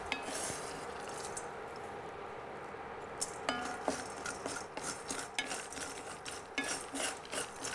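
Turkey berries being stirred while dry-roasting in a pan, a continuous scraping rasp of spoon against metal with scattered clinks and faint sizzling, close and quiet, no talking.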